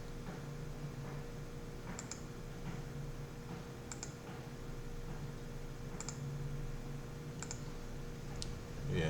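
Computer mouse clicking on a Windows Server 2022 machine: a few faint, sharp clicks spaced a second or two apart over a low steady hum, with no talk.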